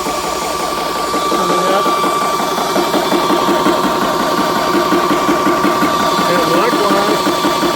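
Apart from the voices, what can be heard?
VEVOR PCP high-pressure air compressor running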